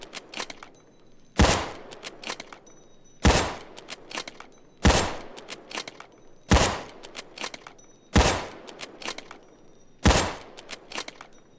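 MSR Rattlesnake bolt-action sniper rifle fired in Payday 2: six loud, sharp shots spaced about two seconds apart, each followed by a brief clatter of the bolt cycling the next round, with no talk.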